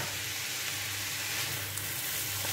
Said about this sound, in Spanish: voy a dejar aquí que se cocine la carne con las especias